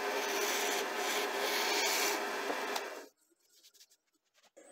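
A wooden tool handle spins on a wood lathe as a cutting tool rides on it, producing a loud, steady scraping rasp that cuts off after about three seconds, leaving faint ticks and knocks.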